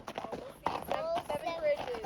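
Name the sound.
horse hooves clip-clopping on a trail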